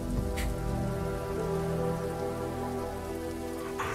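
A steady rain effect, drops falling as zeros and ones, in the video game There Is No Game: Wrong Dimension. It is a dense, continuous patter with no pauses, set over low tonal game music, and no one speaks.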